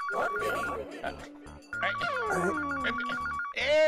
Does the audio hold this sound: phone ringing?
yes